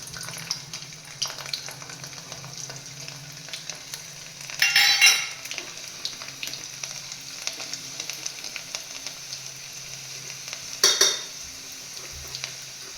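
Chili, ginger and garlic sizzle and fry in hot oil in a pan for okra masala, a steady crackle with two brief louder bursts of stirring and spattering, no talking.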